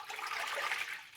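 Water poured into a pizza dough mixture in a home kitchen, a short splashing trickle that swells and eases within about a second, with no talk over it.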